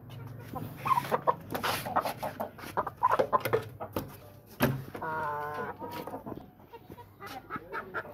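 Several chickens cluck and squawk nearby in short, uneven bursts, with one longer drawn-out call midway and faint talk in the background.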